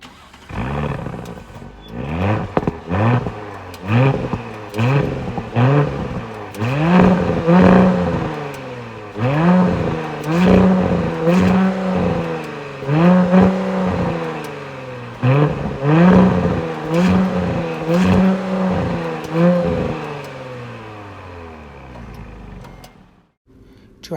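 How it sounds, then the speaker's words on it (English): Audi SQ5 3.0 TFSI quattro V6 with dual-branch tailpipes in dynamic mode, revving repeatedly in loud, close throaty bursts that rise and fall in a steady rhythm for about twenty seconds before cutting off, with no talk. "we also have the dual branch tailpipes, which sound like this in dynamic mode"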